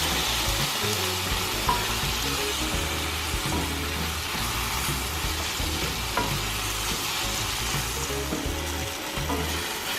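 Tomatoes cook down in a pan for baingan bharta, a steady sizzling fry with occasional stirring scrapes, continuous and fairly close, with no talk.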